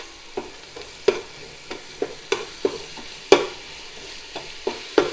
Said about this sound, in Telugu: ఇక్కడ ఆయిల్ వచ్చింది, అందులో అల్లం చున్నుల్లిపాయ పేస్ట్ వేద్దాం